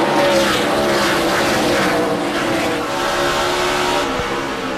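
NASCAR race cars, Kevin Harvick's 21 car among them, roar past close by during a 2006 Busch Series race at Food City 250. The engine drone is loud and continuous, with a brief pass swelling and then fading.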